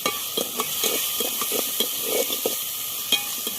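Peas tipped into a pan of cumin and coriander powder frying in oil, giving a soft steady sizzle broken by irregular scraping stirs and light clicks of a spoon, close and quiet with no talk.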